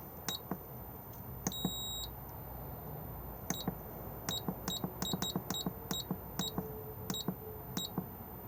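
Short electronic key beeps from a motorhome control panel in an Auto-Sleeper Wiltshire, sounding one by one at an uneven pace as buttons are pressed, sharp and close over a quiet interior hum.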